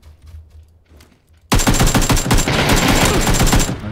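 Sudden burst of rapid automatic gunfire from several shooters in the PUBG battle royale game, erupting after a quiet start and continuing loud and dense to the end, with no talking.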